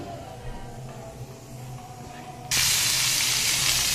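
A quiet room hum gives way to a sudden loud, even sizzle as pumpkin hits hot oil tempered with cumin seeds and keeps frying close by.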